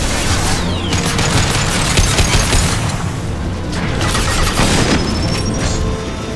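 Loud, sustained blasts and rumbling explosions from the video game Mass Effect HD, with rattling debris and gunfire-like crackle filling the whole stretch without pause.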